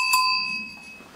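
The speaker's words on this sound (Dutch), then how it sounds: "En nog weer een belletje." A small bell gives a single bright ring inside an abandoned house, its clear tone fading over about a second with no voices.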